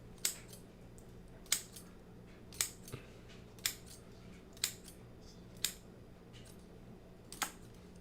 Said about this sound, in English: I'm just gonna make some snips.